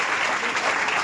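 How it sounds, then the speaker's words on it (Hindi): Audience at a children's day website launch event claps in steady, dense applause, loud and continuous throughout. "एक बार आप सारे लोग अपने लिए जोरदार तालियां बजा लें"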